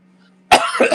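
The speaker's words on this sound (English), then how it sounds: "Sorry if that cough is scaring people off." A single close, harsh cough bursts out after a quiet moment, followed by a rougher throat-clearing rasp.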